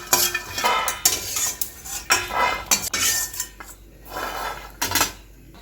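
Peanuts with their skins dry-roasting in a pan, a metal spoon repeatedly scraping and clinking against the pan as they are stirred in irregular bursts, close up with no talking.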